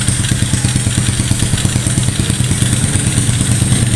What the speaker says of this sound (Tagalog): Patayin muna natin ang makina para hindi maingay.